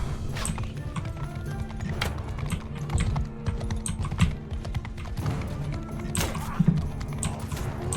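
Rhythmic hoof clip-clops from a horse in Mount & Blade 2, steady and fairly loud, with occasional sharper clatter and no talking.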